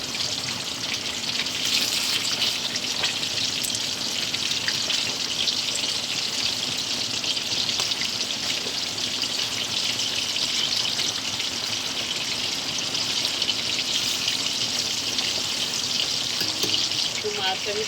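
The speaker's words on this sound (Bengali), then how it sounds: "ইলিশ মাছ আমি হালকা করেই ভাজবো" Hilsa fish pieces fry lightly in hot oil, giving a loud, dense, continuous sizzle like rushing water that holds steady throughout without pause.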